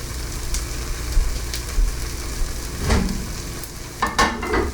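Oscar Mayer turkey bacon sizzling in a pan, two slices crackling steadily up close, with a few louder spits and pops and some stirring or scraping, no talk.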